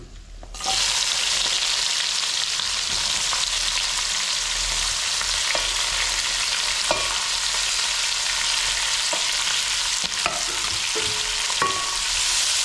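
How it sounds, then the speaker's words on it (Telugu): Onions fry in a pan for village-style mutton biryani, a loud, dense, continuous sizzle heard up close, with occasional clinks and scrapes of stirring. "ఉల్లిపాయ కలర్ వచ్చేదాకా వేగలం."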